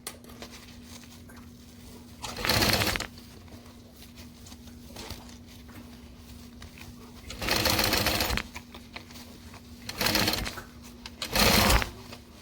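A sewing machine stitches fabric in four short bursts of rapid whirring, each lasting under a second, separated by quiet pauses with a faint steady hum.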